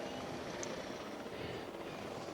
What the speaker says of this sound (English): So the helicopter is on loop forever